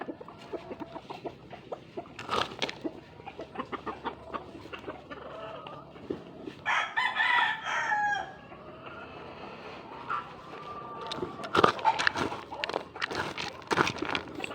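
Conditioned gamecocks at feeding time in a Philippine yard cluck steadily and crow, one drawn-out crow rising in the middle, with other birds calling nearby.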